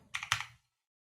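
Tab key on a computer keyboard pressed twice in quick succession: two crisp, close plastic clicks, then silence, with no talking.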